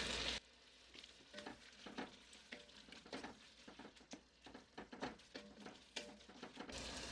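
Vegetables and garlic sizzling in a pan for pasta sauce, a steady close crackle broken by repeated scraping stirs and light clinks of utensils, with no talking.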